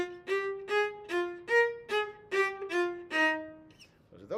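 Solo viola playing two measures of a Mendelssohn excerpt, about eight detached bowed notes in an even rhythm with a shift to a higher note midway, close and clear, followed by a brief breath or voice at the end.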